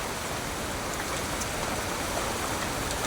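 Steady, dense rainfall pours down continuously, a heavy broadband hiss of water on surfaces with no pauses.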